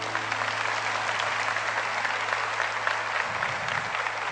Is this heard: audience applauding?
yes